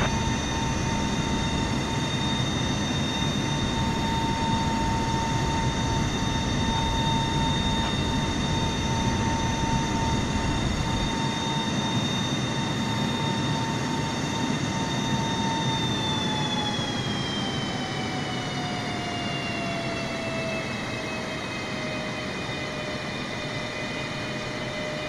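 Air Force One, a jet, takes off from San Francisco Airport with a sustained, fairly loud engine roar and steady whine that slides down in pitch partway through; there is no speech.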